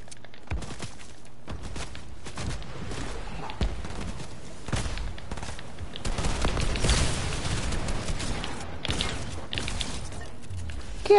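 Rapid bursts of gunfire ring out in a Fortnite match, with scattered and clustered shots cracking at mid distance alongside footsteps, growing denser and louder toward the middle.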